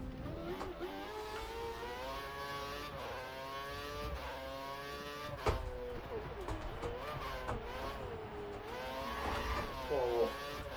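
F1 2013 video game Force India car at the German Grand Prix, its high-pitched engine whining and shifting steadily through gears, with a brief tyre squeal near the end while a voice speaks over it.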